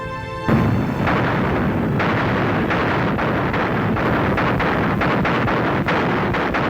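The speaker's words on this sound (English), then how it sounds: "Zhukov gave the order for a massive artillery barrage against German defensive lines just a few miles ahead" A massive WWII artillery barrage against German defensive lines, heard as a dense, continuous rumble of booming blasts, loud and sustained, with sharp individual bursts standing out over the roar.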